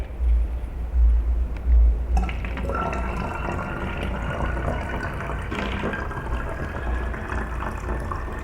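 Water poured into the middle of three bottles: a short knock, then a steady filling trickle whose pitch rises as the level climbs, close and fairly loud with no talk.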